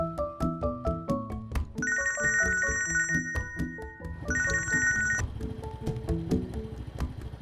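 A telephone rings during a phone call, its bright, repeating electronic tone sounding in two bursts over a busy melodic music bed, fairly loud and close.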